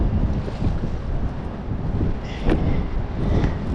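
Strong wind gusts across a small fishing boat out on the water, buffeting the microphone in loud, uneven surges with the wash of waves underneath.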